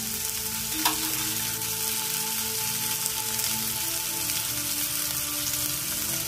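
Stone fish frying in oil in a pan, a loud continuous crackling sizzle that holds steady with one brief sharp pop near the start.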